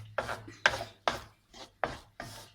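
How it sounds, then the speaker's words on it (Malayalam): A thick cashew katli mixture is stirred in a pan with six steady scraping strokes, each one a soft rasp against the metal, close up and quiet. "ഇങ്ങനെ ഇളക്കിക്കൊണ്ടേയിരിക്കുക."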